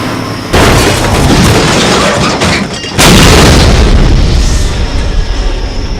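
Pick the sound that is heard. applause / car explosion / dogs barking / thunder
car explosion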